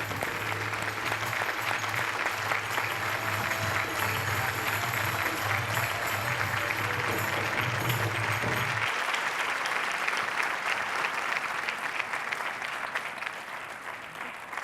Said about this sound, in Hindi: इनके लिए जोर जोर तालियां।